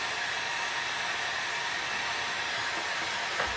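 A hair dryer blows steadily on a painted candy jar, giving a continuous, even whooshing roar that stays close and constant throughout with no pauses.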